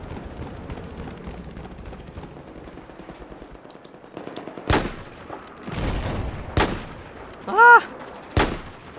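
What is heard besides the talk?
gunfire in the video game Battlefield 4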